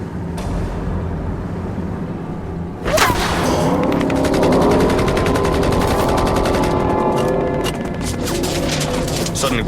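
A Vietnam War firefight erupts from a boat as sniper fire comes from the shoreline: after a quieter start, loud, sustained bursts of automatic gunfire and rifle shots break out and rattle on without letup.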